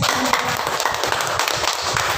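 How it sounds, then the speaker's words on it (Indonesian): Third-grade elementary pupils clapping for a classmate in a classroom, a steady dense patter of many small hands filling the room without pause. "Oke, tepuk tangan buat temannya."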